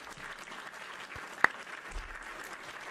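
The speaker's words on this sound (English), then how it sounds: "I gotta give you a round of applause for that" Canned applause sound effect triggered from a stream soundboard button during a Minecraft livestream, a faint, steady patter of crowd clapping with one sharp click partway through.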